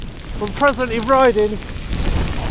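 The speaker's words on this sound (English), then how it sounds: "in a pretty heavy hailstorm." A heavy winter hailstorm pelts a cyclist riding a railway path, heard as a dense, continuous hiss and patter of hailstones with wind noise. Someone speaks close over it, and the noise grows louder once he stops.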